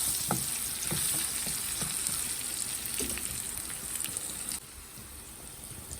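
Onions with turmeric fry in a pan for an ivy gourd (dondakaya) fry, making a constant bright sizzle with scattered stirring clicks close by, no talk, before the sizzle drops slightly near the end.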